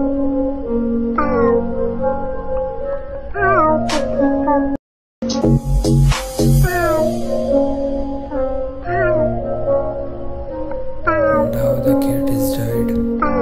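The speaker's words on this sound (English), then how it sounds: "Little cat crying." A cat meows repeatedly in a sad animated cat story. The cries are drawn-out and rise and fall in pitch, heard up close and loud over a steady tonal background, with a short silent gap partway through.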